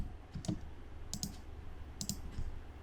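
Keys on a computer keyboard are tapped in a few short, sharp clicks spaced unevenly, typing numbers close up and fairly quiet with no voices.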